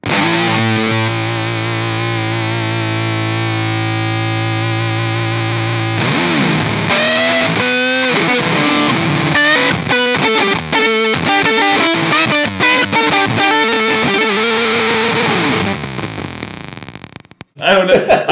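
An electric guitar run through a fuzz pedal roars loud and saturated, opening with a long held note before breaking into busy, choppy riffs and stuttering bursts, sustained nearly throughout.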